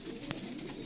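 A soft, low pigeon coo drifts from a rooftop loft in Faisalabad, one brief murmuring phrase over quiet ambient hiss.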